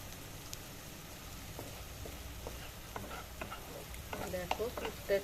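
An egg filling fries quietly in a pan with a soft, steady sizzle. Faint clicks and scrapes pick up toward the end.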